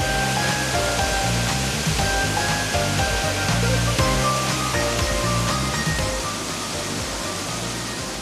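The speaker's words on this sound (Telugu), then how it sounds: "పరవళ్లు తొక్కే జలపాతాలు" A gushing forest waterfall roars as a loud, dense, continuous rush of water with no letup and no voices.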